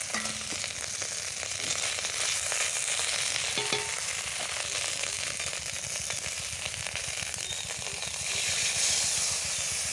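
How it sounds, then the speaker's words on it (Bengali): Ginger paste frying in hot oil with bay leaf and five-spice tempering for a cucumber curry, giving a continuous close hiss and sizzle with a few light utensil clicks, no talking. "আদা বাটা দিচ্ছি।"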